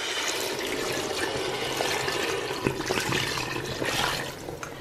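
Water poured into a pot with tomato purée for a red couscous sauce makes a steady, fairly loud rushing splash that holds evenly for about five seconds.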